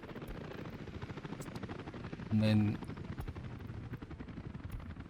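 Helicopters in the Soviet city-building game Workers & Resources: Soviet Republic make a rapid, chopping rotor thud under a steady engine drone, heard faintly beneath a man's speech that sits over the middle of the sound.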